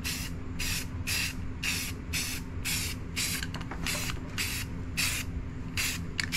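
Rapid short bursts from a spray can laying a light coat of primer on a marble run, about a dozen hissing puffs in quick rhythm, close and fairly quiet, no voices.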